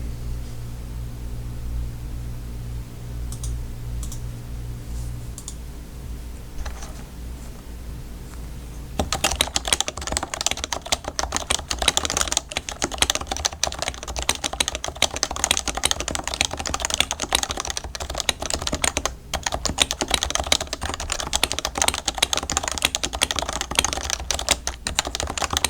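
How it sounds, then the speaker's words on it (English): Rapid, steady typing on a Leopold FC660C Topre keyboard, dense soft thocking keystrokes close up after a quiet humming lead-in of about nine seconds. "I'm just gonna type a short passage on Type Racer, and then I'll record the sound while doing that."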